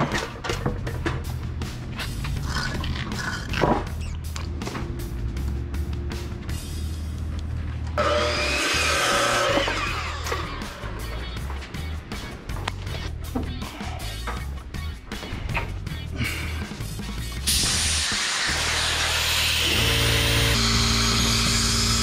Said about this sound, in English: I'll get you set up on the saw